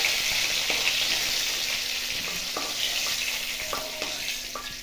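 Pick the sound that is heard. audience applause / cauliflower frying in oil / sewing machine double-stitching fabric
cauliflower frying in oil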